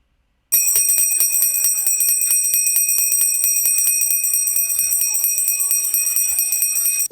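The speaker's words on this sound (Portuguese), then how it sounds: "O som desse sino causa correria na escola." A loud electric school bell rings continuously after a brief silence, a harsh steady metallic buzzing that lasts several seconds without pause.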